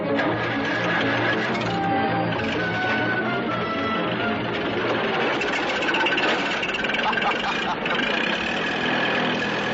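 An old farm tractor engine runs steadily and loud, a continuous low mechanical drone with a rattling hum that holds throughout, with voices faintly under it.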